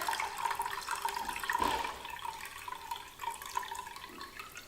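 Water runs steadily while rice is rinsed for a Korean soybean paste stew, a soft continuous splashing stream with a brief louder gush near the middle, with no talking.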